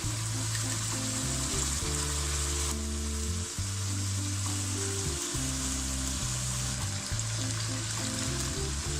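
A loud, constant sizzle of chicken frying with garlic and ginger for a Peshawari karahi, crackling close up for the whole stretch, with a low hum underneath.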